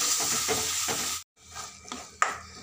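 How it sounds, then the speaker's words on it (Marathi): Ghee-fried mashed carrot being stirred in a kadhai for gajar halwa, sizzling up close with spatula scrapes, a brief silent break, then more scraping and a sharp clink against the pan. "तुपामध्ये छान परतून घ्यायची"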